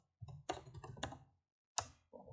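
Quick typing on a computer keyboard, two short bursts of close clattering keystrokes separated by a brief silence, with no voices.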